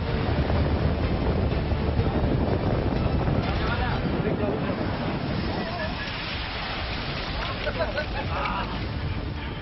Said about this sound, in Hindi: तो कहीं समंदर किनारों पर पसरी खामोशी को चीरती लहर